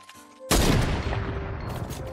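A powerful sniper rifle in the video game Fortnite fires one loud, close shot that cuts in abruptly after a quiet moment, followed by a lingering crackling tail and a faint tone, with no talking.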